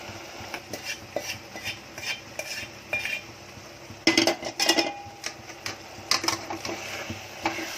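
A small spoon clinks and scrapes against a dish while cardamom powder is added to coconut burfi, with light irregular taps and scraping strokes and a louder burst of clinks in the middle, no voices.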